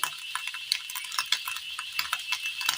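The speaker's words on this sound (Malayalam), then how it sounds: "ചിക്കൻ മസാലപ്പൊടിയും ഗരം മസാലപ്പൊടിയും ഇട്ട് കൊടുത്തിട്ട് നന്നായിട്ടൊന്ന് ഇളക്കിയെടുക്കാം" Scrambled egg masala is stirred in a pan with coriander, chicken masala and garam masala powders. A spoon makes soft, quick, irregular scrapes and light taps against the pan, fairly quiet and close.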